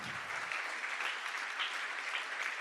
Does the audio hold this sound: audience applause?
yes